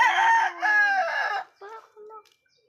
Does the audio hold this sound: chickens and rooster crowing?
yes